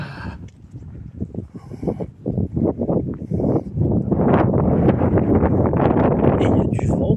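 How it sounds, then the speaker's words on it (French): Gusty wind buffets the microphone on an open plateau walk, with roaring rumbles that start in bursts and then build into a loud, continuous blast over faint voices. "Et il y a du vent, bordel."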